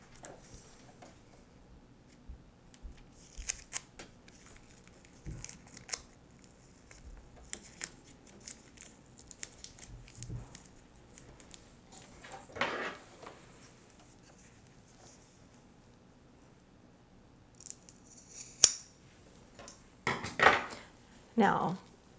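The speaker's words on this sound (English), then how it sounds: "So I'm gonna tape it first, then cut it." Scissors snip through loosely woven fabric that has been taped before trimming. Sparse, quiet cuts and light taps are scattered across a near-silent room, with a few louder crisp snips and rustles toward the end.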